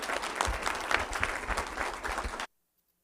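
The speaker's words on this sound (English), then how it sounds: "Round of applause for Graydon." Steady applause from attendees at a school board meeting honoring a student of the month, many people clapping together in a dense, even wash that cuts off abruptly near the end, followed by silence.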